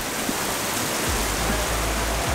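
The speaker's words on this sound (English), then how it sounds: "give it a minute to hopefully let the rain kind of calm down a little bit" Heavy rain pouring down outside a big box store, a loud, steady wash of downpour with no other sounds standing out.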